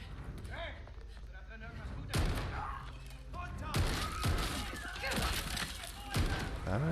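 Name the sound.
shotgun blasts in a video game trailer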